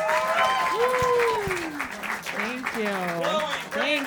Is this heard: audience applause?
yes